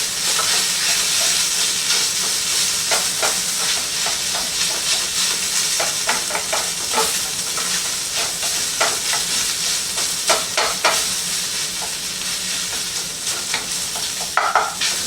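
Tomato paste is stirred into frying pork sausage for rigatoni rosa, a loud steady sizzle and hiss with a run of scraping, clattering stirs growing busier toward the end, close and without talk.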